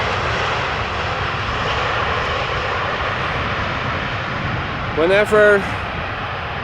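A Finnair airliner departing Amsterdam Schiphol Airport produces a steady, broad jet engine roar that holds throughout, heard from a distance, while a person briefly talks near the end.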